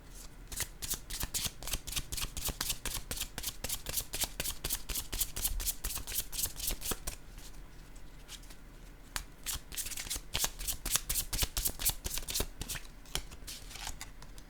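A deck of tarot cards is shuffled by hand, a long run of quick, crisp riffling flicks close up, pausing briefly midway before resuming at the same brisk pace.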